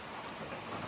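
Heavy rain falls steadily around an Appalachian Trail shelter, a dense even hiss with no other sounds, fairly faint.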